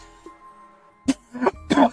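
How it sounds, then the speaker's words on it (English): Three or four short, harsh coughs close up, likely from heat or allergies, with a brief throaty pause between bursts and quiet around them. "Sorry for the coughing."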